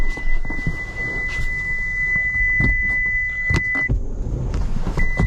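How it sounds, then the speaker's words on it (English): A steady electronic warning tone sounds continuously inside a 2023 Toyota Sequoia TRD Pro hybrid over rumbling and thumping, stops briefly, then starts again. "It's beeping at me."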